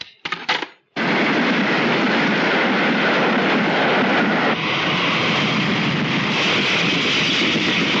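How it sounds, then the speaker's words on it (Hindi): A super express train rushes past at high speed, a loud, steady roar with rattling wheels that starts abruptly after a brief sound and holds for several seconds. "अभी सुपर एक्सप्रेस पास हुई है"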